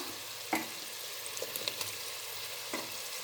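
Chopped tomatoes hit a pan of frying vegetables for veg biryani, bringing a soft steady sizzle with a few sharp clinks and stirring knocks, quiet and close, with no voices.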